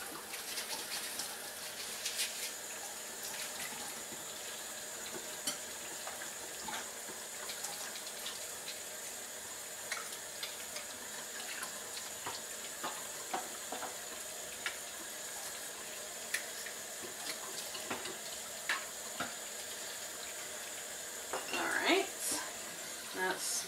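Water running steadily through brewing equipment tubing during cleaning, a continuous broadband rush with faint clinks and a brief splash near the end, under talk.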